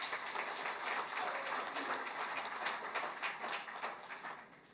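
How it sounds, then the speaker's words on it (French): An award ceremony audience claps steadily and fairly evenly throughout, a continuous wash of applause from a crowd that tapers slightly at the end, with no talking over it. "Et le troisième prix, il sera décerné par Ibrahim Oussari, s'il vous plaît, sous vos applaudissements."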